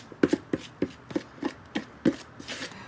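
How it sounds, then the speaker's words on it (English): Margarine being worked into flour in a big bowl for biscuits, a steady series of soft, dull scraping thuds in a regular rhythm, close and moderately loud, with no talking. "Mainly you just want to distribute that margarine through your flour."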